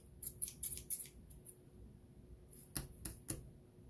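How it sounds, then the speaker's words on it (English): Teflon-coated scissors snip quietly through a thin chalk transfer sheet: several quick cuts in a cluster, a pause, then a few more crisp snips. "I generally cut them apart on the cut lines"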